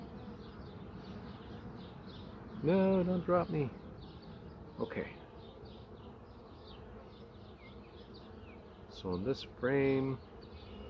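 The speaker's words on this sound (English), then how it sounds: "We've got bees hanging on for dear life." Honey bees buzz on a hive frame, a steady soft hum beneath a voice speaking in short bursts, with a few louder individual bees droning close by.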